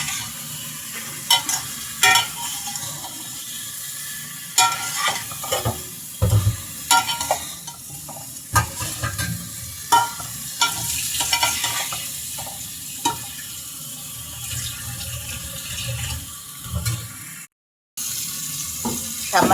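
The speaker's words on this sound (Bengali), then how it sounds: "আমি ঢেঁড়স এবং আলুগুলোকে এখন সুন্দর করে ভেজে নিচ্ছি।" Okra and potatoes dusted with chili powder fry in a pan with a little oil while a utensil stirs them, giving a continuous sizzle broken by irregular scrapes and knocks against the pan and occasional brief pauses.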